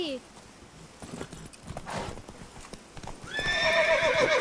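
A horse in a video game clip-clops along at a trot, steady hoofbeats close by, then gives a loud, drawn-out whinny near the end.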